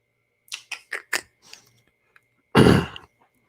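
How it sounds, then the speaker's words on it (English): A few short, soft coughs in quick succession, a brief pause, then one louder, harsher cough or throat clear, close by with no speech. "I'm getting a cough like crazy today"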